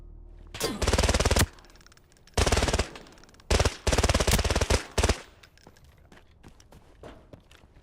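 Bursts of automatic gunfire from an enemy in a video game, four or five loud sustained volleys broken by short pauses, each dense and rattling, with quieter background sound in between.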